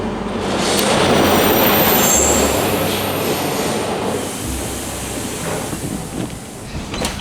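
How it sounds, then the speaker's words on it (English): A train rolls through a railway station with a loud, rumbling roar and high wheel squeal that swells and then slowly fades, with no talking. "This train station is beautiful."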